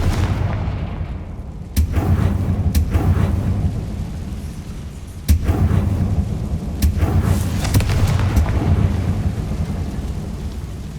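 Confringo fire spell explosions in the Hogwarts Legacy video game, two sharp booming blasts followed by rumbling decay and crackle, loud against a low steady ambient roar.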